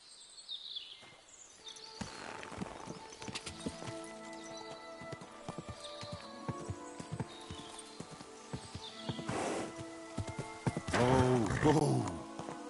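Horse hooves clip-clop in the video game Kingdom Come Deliverance 2, a loose run of close knocking steps over a quiet outdoor backdrop, with a brief whinny-like call near the end.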